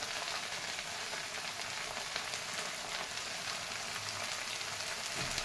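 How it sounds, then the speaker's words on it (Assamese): Leheti greens with garlic and green chilli fry in a pan, giving a steady, close crackling sizzle that holds evenly throughout with no talking. "লেহেতি শাকখিনি ধুই কৰি কাটি মেলি নহৰু আৰু কেঁচা জলকীয়া দি ভাজিছোঁ"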